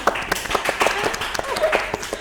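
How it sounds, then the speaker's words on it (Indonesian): An audience claps at a Jogjajanan culture and food event, a short burst of scattered hand claps with voices talking over them. "Boleh tepuk tangan dulu dong"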